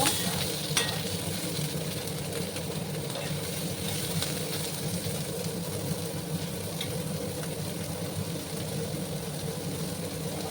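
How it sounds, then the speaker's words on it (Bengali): Chopped onions and a dozen or so garlic cloves fry in a pan on a home stove, producing a constant, even sizzle with an occasional stirring scrape and no talking. "এটাকে একটু ভাজা ভাজা করে নেব"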